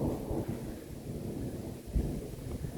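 Low rumbling thunder rolling under gusty wind buffeting the microphone, with a steady wash of storm noise during a severe thunderstorm in Kyiv region, Ukraine.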